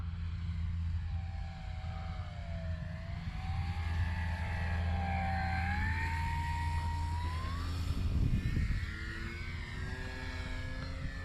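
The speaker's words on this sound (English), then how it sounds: "A little touch and go there." A Cermark Fantasy Flyer RC plane makes a touch and go, its propeller engine droning steadily as the pitch glides up and down with the passes, loudest around the moment it nears the ground and climbs away.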